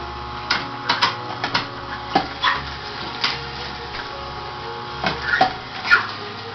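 A juicer with a flat screen and a small top nozzle grinds coconut in a kitchen, making a close mechanical hum broken by irregular sharp clacks and knocks.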